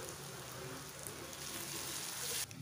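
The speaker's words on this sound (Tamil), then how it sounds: "அஞ்சு பச்சை மிளகாயை கட் பண்ணி போட்டுருக்கேன் இது எல்லாத்தையுமே வதக்கிக்கலாம்" Chopped onions and green chillies sauté in a hot pan with salt, giving a steady, close sizzle throughout with a few faint stirring scrapes.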